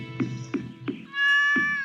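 A cat meows repeatedly, with several short close meows in a steady rhythm followed by one longer drawn-out cry and a final short meow.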